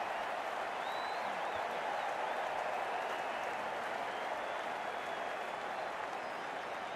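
Crowd applauding at a cricket match between the Los Angeles Strikers and Miami Gators, a steady, sustained wash of clapping from a distant audience throughout.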